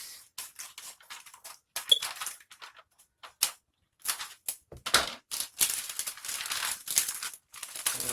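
Scissors snip and crinkle through boot heel material, close and crisp, in irregular bursts of cutting and rustling with short pauses between strokes.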